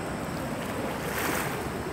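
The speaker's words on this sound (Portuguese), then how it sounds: "Aí você vê aqui, ó, como é que tá se mexendo aqui a água." River current at the Rio Guandu near the CEDAE dam swirls back and forth in a steady, close, broadband rush of water, roughened by wind on the microphone.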